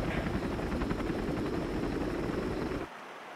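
Gunship helicopter unit from the video game Command & Conquer: Generals, its rotor chopping loud and steady for about three seconds before cutting off abruptly to quiet.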